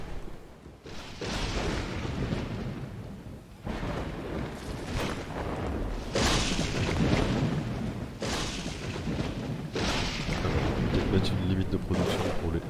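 A storm rages in the video game Dawn of Man, with loud rushing wind and heavy rumbling gusts that surge and swell in repeated waves throughout.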